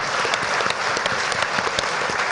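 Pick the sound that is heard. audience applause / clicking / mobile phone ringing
audience applause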